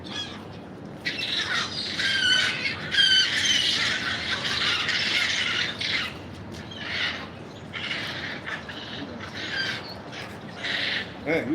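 Hungry birds squawk and squeal shrilly while being fed, in loud, close bursts that are densest early and then come in shorter repeated calls, with people talking alongside.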